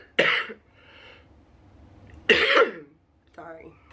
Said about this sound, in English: My cough's back.